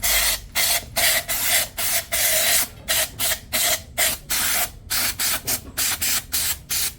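Rapid, rhythmic bursts of hissing brake cleaner aerosol sprayed onto a flood-damaged Mitsubishi 4D56 engine, dozens of short squirts in quick succession, close and fairly steady throughout.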